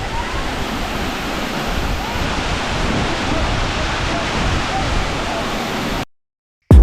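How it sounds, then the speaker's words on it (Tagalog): Steady, dense rush of Tinago Falls waterfall in Iligan City, loud and continuous, cutting off abruptly near the end. "We're now here at Tinago Falls."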